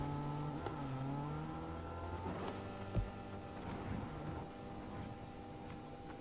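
A car drives by in the video game Fortnite, giving a steady engine hum through the whole stretch, with one short thud partway through and no talking.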